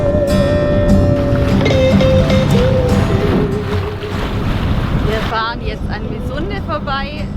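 A sailboat motoring under engine power on the Schlei, with a steady loud engine drone and water and wind rush filling the whole stretch, while people talk over it.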